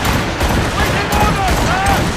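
Musket volley in Assassin's Creed Rogue: a dense, sustained fusillade of overlapping shots crackling loudly throughout, with shouting voices mixed in.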